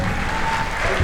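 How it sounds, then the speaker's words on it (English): A brief, dense burst of audience applause for Dr. Steve Simpson at an NLP life talk, steady for the whole second with no voices. "Big round of applause, please,"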